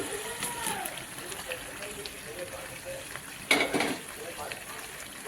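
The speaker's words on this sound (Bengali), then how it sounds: "মশলা থেকে তেল ছেড়ে বেরিয়ে যাচ্ছে দেখতেই পাচ্ছি এবারে ভেজে রাখা আলুগুলো আমি ছেড়ে দিচ্ছি" Fried potatoes are dropped into sizzling spice paste for chicken curry, giving a steady close frying hiss, a sudden louder burst of sizzle and clatter as they go in, with someone speaking over it.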